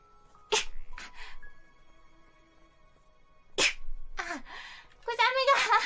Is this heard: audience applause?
no